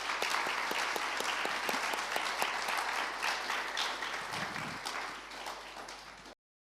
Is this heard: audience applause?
yes